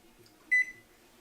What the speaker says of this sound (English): So we'll put 30 minutes on our timer.